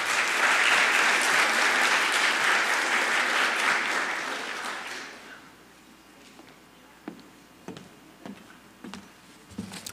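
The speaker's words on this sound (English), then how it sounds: "let's give her a round of applause and welcome your MC for tonight, Katia Halstead." Loud, dense applause from an audience at a college communications studies speech competition as the MC is welcomed, holding steady for about five seconds before dropping away to a quiet room with a few scattered claps and taps.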